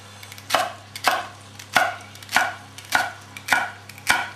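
Knife chopping celery on a cutting board for a lamb shoulder dish: eight sharp, evenly spaced chops about half a second apart, close and clear over a faint steady hum, with no talking.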